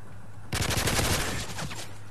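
Rapid automatic gunfire from Call of Duty Modern Warfare 3 bursts in loudly after a quiet half second, a dense run of shots lasting over a second before tapering off, with no voices.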